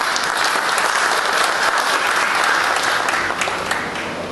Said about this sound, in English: A round of applause to you all.